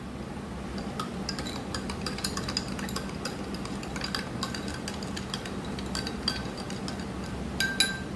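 A metal spoon adds jaljeera powder to a glass, making many light, quick clinks and taps against the glass over a soft background hum, close and fairly quiet, with no speech.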